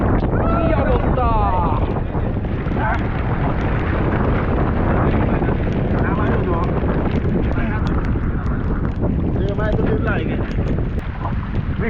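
Engine-powered wooden boat on the Matamuhuri river, its motor droning continuously and loudly with wind buffeting the microphone, while people talk and exclaim over the noise.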